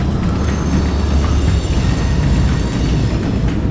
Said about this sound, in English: Of course, we have another train coming through.